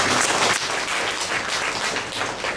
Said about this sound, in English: So let us give a big clap for Professor.